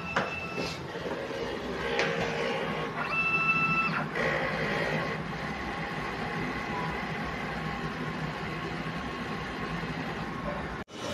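A DTF printer runs its print head cleaning cycle, with a steady mechanical whir, a few clicks and a brief high whine early on, ending in a sharp clunk.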